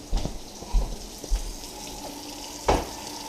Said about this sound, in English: I got my water running.